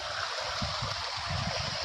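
A man splashing water onto his face and beard outdoors, with steady rushing water and soft irregular splashes close by, no voices.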